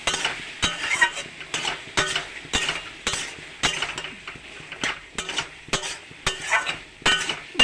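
Goat bhuna stirred in a pan after chilli powder is added, with a steady run of spoon scrapes and metallic clinks against the pan and a soft sizzle underneath.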